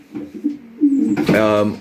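Racing pigeons of Janssen base strains coo up close in a loft, with soft low warbling calls, followed by a louder throaty coo rising over them.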